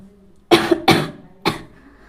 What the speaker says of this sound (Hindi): पता नहीं क्यों बार बार खांसी आती जा रही है